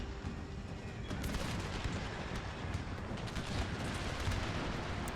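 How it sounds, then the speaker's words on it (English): Grenadiers firing muskets in an Empire: Total War battle, with a continuous crackle of scattered shots and rumbling distant fire. The sound is faint and steady, with sharper reports after the first second and no voices. "I'm gonna order the grenadiers to open fire here."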